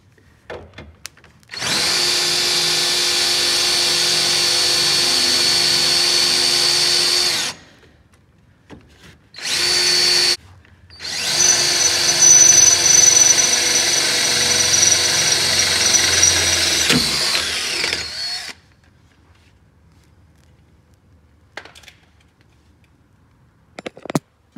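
Power drill boring a hole for a sway bar end link on an FR-S/BRZ/GT86, a loud close steady whine in long bursts with brief pauses between, then trailing off into quiet.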